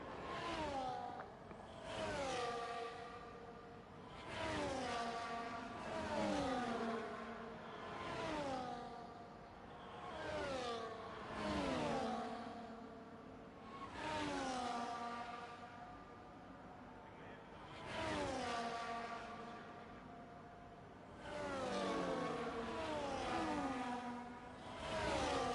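Race cars in a racing video game roll off for the formation lap at Imola, engines rising and falling in repeated revving sweeps as the pack accelerates through the gears.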